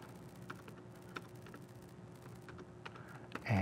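Light, irregular clicking of keys being typed on a computer keyboard, fairly quiet and close, with a brief louder clatter at the end.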